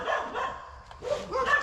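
Several protective dogs bark outdoors at a moderate distance in a short cluster of overlapping barks and yips, fairly loud with no voices.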